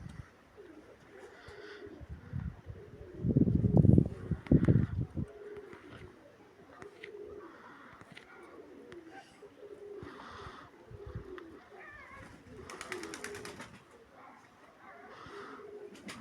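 Pigeons coo in low, throaty bursts, loudest early on, then softer cooing continues under quiet background talk.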